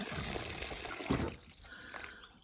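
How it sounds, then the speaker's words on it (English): Water runs from a garden hose into a bucket, a steady splashing rush that fades toward a softer trickle, with faint bird chirps in the outdoor background. "Stick the hose on, stick the tap on, and let it fill up."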